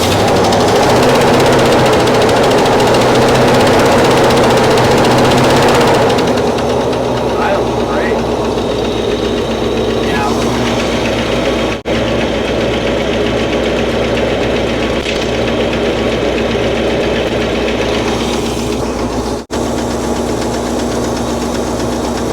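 A 1962 Cadillac DeVille V8, freshly rebuilt carburetor after more than 30 years parked, runs at a steady idle with a continuous low drone and light mechanical ticking, loud and close, a brief louder surge at the start.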